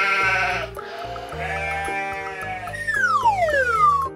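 A sheep bleats in a few wavering calls, close and clear, with a high sliding whistle-like sound rising at the end.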